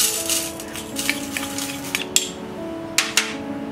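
Toor dal added to a pan where chana dal is frying for a stuffed brinjal dish: light pattering and a few sharp clinks of utensil on metal pan, close up and brief.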